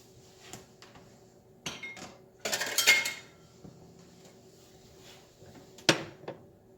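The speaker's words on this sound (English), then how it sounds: "I'm just going to go ahead and stick those in a bowl" Hard boiled eggs are set into a bowl in a quiet kitchen, giving a few scattered light knocks and clinks with a louder clatter in the middle and another sharp knock near the end.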